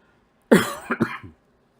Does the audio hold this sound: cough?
yes